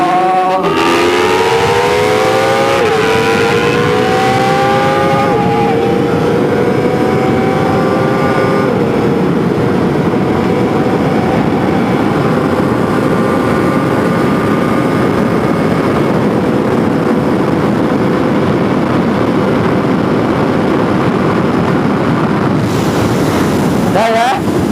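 A motorcycle is ridden at full throttle up to about 170 km/h, its engine note rising through gear changes before settling into a sustained roar buried under heavy wind buffeting on the microphone.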